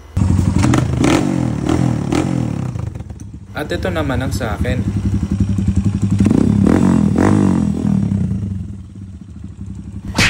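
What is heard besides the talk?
trail motorcycle engine running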